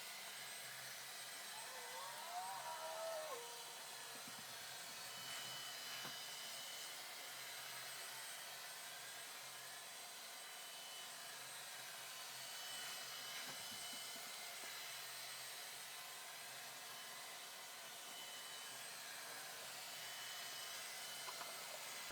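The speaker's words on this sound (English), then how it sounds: "So it looks like the vacuum did a pretty good job" A steady, broadband whirring drone of a Shark PowerDetect NeverTouch robot vacuum cleaning the floor runs continuously at a moderate distance, with occasional faint bumps and scrapes.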